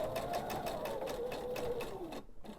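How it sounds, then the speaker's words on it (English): A sewing machine runs steadily at close range, top stitching a label onto a pillow back piece, with a fast, even needle rhythm and a brief stop near the end. "I'm simply going to top stitch around this label to add this to my back piece"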